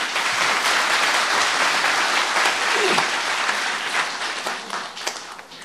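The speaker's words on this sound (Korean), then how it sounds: "큰 박수로 맞이하여 주시기 바랍니다." Audience applause welcoming the head of a recycling social enterprise to the stage at a monthly company assembly, a dense, steady clapping that fills the whole span at even loudness.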